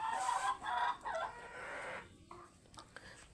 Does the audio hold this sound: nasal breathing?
no